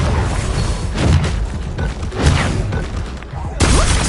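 Bombarda spell blasts from a Hogwarts video game erupt loudly in several heavy, rumbling bursts, with a brief lull before another explosive surge near the end.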